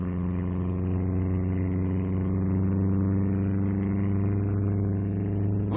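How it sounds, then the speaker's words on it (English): A powerful four-cylinder MG engine at a 1956 speed trial holds a steady, loud, continuous roar at constant pitch, close by and alone, with no talk. "the steady and satisfying roar of the powerful four-cylinder engine beats over the course"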